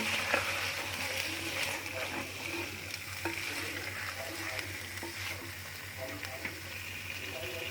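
Fried koftas, turnips, carrots and tomatoes are stirred in hot oil in a pan, a steady soft sizzle with occasional scraping and stirring clinks, moderately quiet, with no talk.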